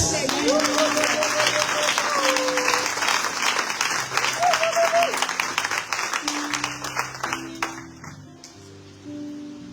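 Church congregation applauding and cheering, a dense wash of many hands clapping throughout with a sung or shouted voice rising over it, the clapping thinning and fading toward the end.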